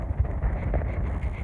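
Steady wind buffets the microphone on an open hillside above a hayfield, a continuous low rumble with no talk.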